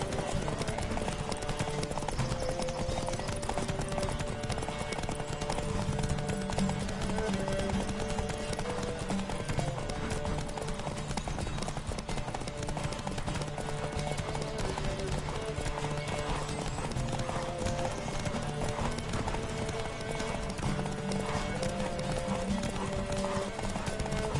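Horse hooves gallop in rapid, steady clip-clop through The Witcher 3 during a horse race, continuous and loud for the whole stretch, mixed with music and shouted voices.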